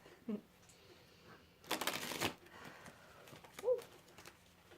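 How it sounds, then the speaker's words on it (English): A deck of tarot cards is shuffled in one burst of rapid riffling near the middle, with a few soft knocks and faint rustles around it and no voice. "see that energy going into the cards as I shuffle the deck"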